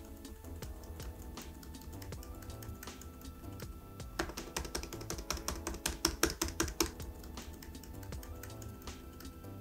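Keys tapping on a MacBook Pro Magic Keyboard with scissor switches, a steady run of soft clicks that grows denser and sharper midway, heard alone over a faint hum with no talk.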